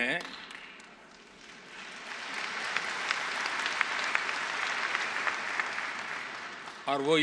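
A hall audience at a plenary session of an international economic forum breaks into sustained applause, a dense steady clatter of clapping that swells and holds for several seconds before a voice cuts back in at the end.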